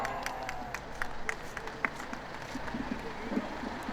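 A crowd at an outdoor political rally in front of Daehanmun claps in scattered, moderate applause, soft and somewhat distant, with light crowd murmur beneath.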